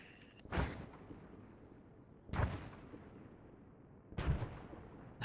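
Three mortar rounds landing one after another in a military shooter game, each a sharp booming impact with a rumbling tail, spaced about two seconds apart against a quiet background, with no talk.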